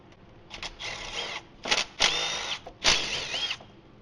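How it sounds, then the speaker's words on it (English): A power drill-driver backs out three T25 screws on the rear differential of a Ford AWD crossover during a viscous coupler replacement, giving three short close whirring bursts with brief pauses between them. "Now we're going to remove these 3 T25 screws and discard them as we have new ones in the kit."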